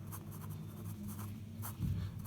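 Pen or marker strokes scratch steadily across a surface while a maths solution is written out, soft and close with brief bursts of scribbling over a low background hum.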